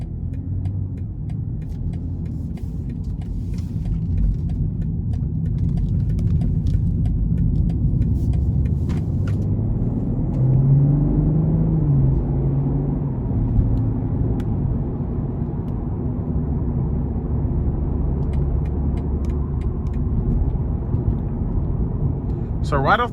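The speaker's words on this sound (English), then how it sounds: "we're gonna go ahead and take this BMW M340i out on the road for a quick test drive" A 2020 BMW M340i cruising on the road, heard from inside the cabin as a steady low engine and tire rumble with a brief rise in engine tone midway, smooth and continuous.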